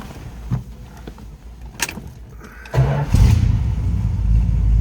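A 1970 Dodge Charger SE engine cranks after a few clicks and catches near the midpoint, then settles into a loud, close, rumbling idle that swells as the revs rise toward the end.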